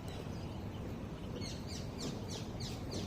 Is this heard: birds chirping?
yes